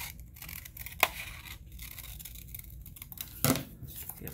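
Scissors snip through a paper or card holster pattern for an NAA Pug mini revolver, a couple of crisp close cuts separated by soft rustling and scraping.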